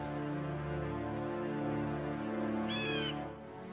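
Cat meowing in the hidden-object game Witches Legacy: The Charmed Curse, a short, bright, wavering meow standing out against a steady backdrop of game music with no talk.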